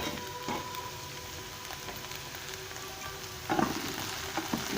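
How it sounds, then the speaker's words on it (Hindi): Spicy bhindi (okra) fries in oil in a pan, giving a steady soft sizzle close by, with a few louder crackles and clatters near the end and no one speaking. "भिंडी पचनि थियूं"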